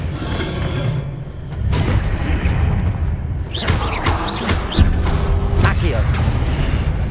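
Expelliarmus and other spells fire off in a Hogwarts Legacy duel, a loud mix of whooshing casts, thuds and booming impacts in quick succession, with a voice speaking over the combat.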